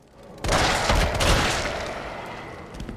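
A loud burst of rapid gunfire and booming blasts erupts suddenly in the video game Resident Evil 3 Remake, then rumbles and fades out over a couple of seconds.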